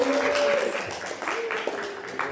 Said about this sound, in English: Please give your candidate a warm round of applause.